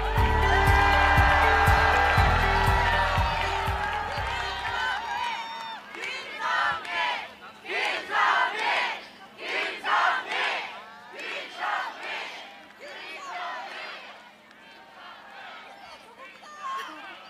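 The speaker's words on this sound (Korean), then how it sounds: "다시 한번 뜨거운 함성과 응원 부탁드리겠습니다." Music fades out, then a large crowd at an opposition-party political rally in South Korea roars and cheers in repeated rhythmic bursts, loud and sustained.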